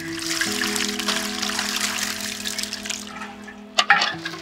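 Water poured and mixed into worm castings, a steady close trickling wash that runs throughout, ending with a couple of sharp knocks.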